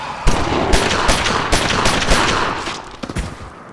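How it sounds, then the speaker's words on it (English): Gunshots ring out in the zombie video game ZombeX, a rapid, loud burst of sharp cracks in uneven clusters that runs through the whole moment with no talk. "She shot him 6 times!"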